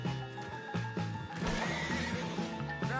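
Horse neighing in the Red Dead Redemption video game, a whinny set against a dense background of music and game sound lasting the full few seconds, with no talking.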